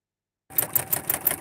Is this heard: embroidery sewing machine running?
yes